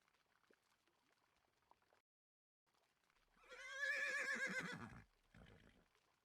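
A horse in a video game lets out a loud, clear whinny lasting under two seconds, rising and wavering before cutting off, set among faint game background sounds.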